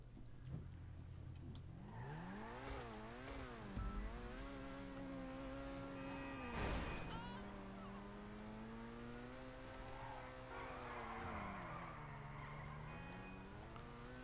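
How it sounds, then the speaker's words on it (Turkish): A synthetic-sounding car engine in GTA V revs up and down in wavering tones, steady and continuous, with a sharp burst midway. "Bu arabanın sesini duymak istiyorum."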